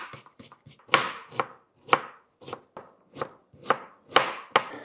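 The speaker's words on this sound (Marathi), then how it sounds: "आपण आता कांदा बारीक कट करून घेऊ।" An onion is finely chopped with a knife on a board, a steady run of sharp, crisp taps about two per second, close and clear, with no talking.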